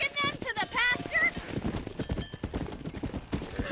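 Horse hooves clip-clopping in the open-world game Red Dead Redemption 2, a steady rhythm of hoofbeats at moderate loudness, with a brief whinny near the start and someone talking over them.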